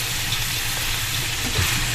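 Chunks of beef brown in a pan for a French beef bourguignon stew, giving a steady, close hiss of frying without a break.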